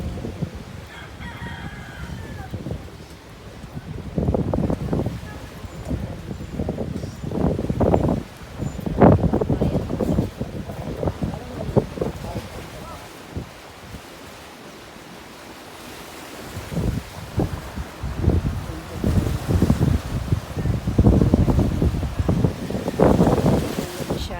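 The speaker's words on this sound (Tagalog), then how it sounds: "Kasi ang lakas po ng hangin." Strong wind buffeting and roaring in gusts on the coast at Lucanin, with heavy surf rumbling underneath and a rooster crowing in the distance; loud and continuous.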